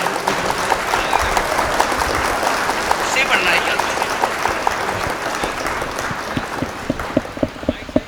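Loud, sustained crowd applause fills a stage at a Hindi comic poetry gathering as poet Vinod Rajyogi is welcomed, the dense clapping holding steady throughout with sharper individual claps near the end.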